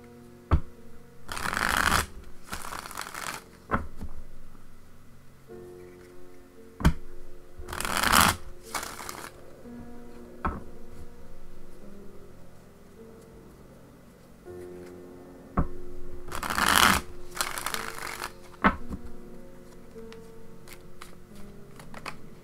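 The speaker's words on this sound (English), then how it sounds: "I'll deal out the cards" Tarot cards shuffled in several separate bursts, each a crisp riffling flutter a second or two long, close up with quiet gaps between and no talking.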